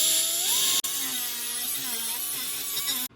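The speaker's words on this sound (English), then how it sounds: "As you're grinding this out" An angle grinder grinds out a crack in a cast exhaust manifold, giving a steady, close, high-pitched whine whose pitch wavers as the disc bites, with one brief dropout early on and an abrupt stop at the end.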